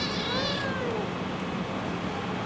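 A cat meows once, drawn-out and close, at an outdoor spot in Goa, then gives way to quiet ambient noise with no one talking.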